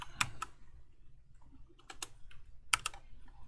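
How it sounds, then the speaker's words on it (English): Keys clatter on a computer keyboard in short bursts of quick taps separated by quiet pauses, close up and fairly soft. "I'm just going to type this in"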